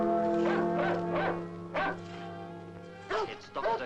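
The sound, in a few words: dog barking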